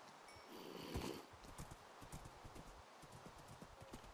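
Horse hooves clip-clopping at a steady trot while riding in the Minecraft video game during a multiplayer PvP battle, with a brief snort or rustle near the start, moderately loud and alone.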